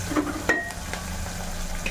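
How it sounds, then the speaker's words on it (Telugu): Spice tempering sizzles steadily in a pan while being cooked for a Diwali pullaganda curry, a soft continuous frying hiss with a faint clink near the start. "పోపును వేగనివ్వండి."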